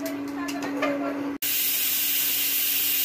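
Pressure cooker on a stove releasing steam while chicken curry cooks, a steady whistle tone that breaks into a loud, continuous close hiss of escaping steam.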